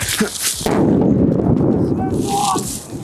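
A training grenade goes off during a tactical medicine drill, a sharp crack followed by a loud, sustained rumbling blast that fills the rest of the moment, with people speaking briefly before it.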